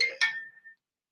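A phone ringtone chimes for an incoming call during a conversation, a short bright electronic tone burst repeated twice and then ringing out alone before silence.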